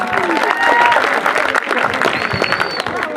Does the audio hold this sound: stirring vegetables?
no